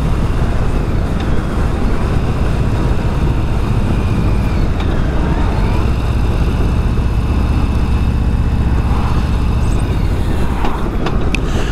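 Stock 2022 Harley-Davidson Street Bob motorcycle engine running in a steady, loud low rumble mixed with road and wind noise, continuous throughout with no talk.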